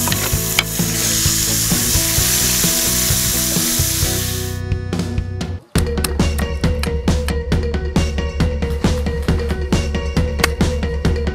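Bacon frying in oil in a home kitchen pan, with steady broadband sizzle throughout, a brief lull near the middle, then renewed crackling sizzle with rhythmic stirring clicks.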